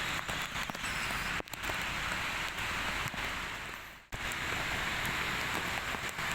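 Heavy rain pours steadily over flooded city streets in Banjarmasin, a loud, dense, unbroken hiss of drops hitting surfaces that fills the whole stretch with only brief dips.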